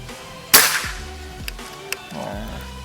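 A PCP Predator Gorilla X2 air rifle with full CNC body and plenum fires once: a single sharp, loud crack with a brief ringing tail, followed by faint thin clicks and low background rumble, with no talking.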